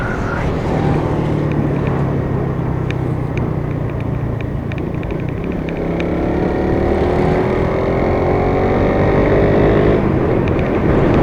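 A Rusi RFI 150 motorcycle engine runs steadily at 2000 rpm, a loud, close, continuous drone with a faint shift in tone partway through and some wind buffeting.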